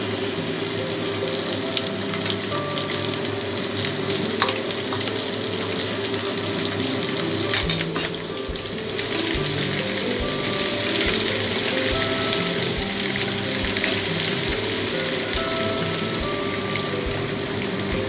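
Spice paste frying in a pan, a continuous hissing sizzle with crackling spatters that holds steady and fairly loud throughout, with faint clinks partway through and no voices.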